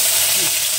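Beans and carrots hit hot oil seasoned with a dried red chilli and cumin seeds, giving a loud, dense, steady sizzle up close for a brief moment.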